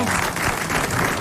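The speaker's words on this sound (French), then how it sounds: "Et vous applaudissez Monsieur Naudin de Charleville." A studio audience applauds on a 1980 French television show, with a dense, steady wash of clapping filling the whole short moment.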